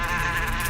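Bees buzzing around a hive, a dense continuous insect drone that stays steady and fairly loud throughout, with no voices over it.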